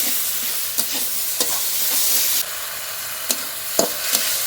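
Spinach frying in a pan is stirred steadily, giving a continuous close sizzle with occasional scraping clicks of the utensil.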